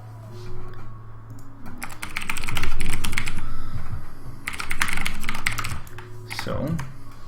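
Rapid clattering keystrokes on a computer keyboard that sometimes doubles its input, typed in two dense bursts with pauses between, close and fairly loud over a faint steady background hum.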